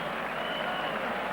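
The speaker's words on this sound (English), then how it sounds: "Applause from the crowd for as much for the performance of Watkin as for Curtly Ambrose" Steady, even crowd applause at a Lord's Test match between England and the West Indies in 1991, a dense continuous patter from a large audience filling the whole stretch.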